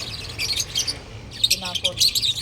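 A brooding pet bird, a silan sitting on its eggs, gives bursts of high chirps close by, with a short pause in the middle before more rapid calls follow.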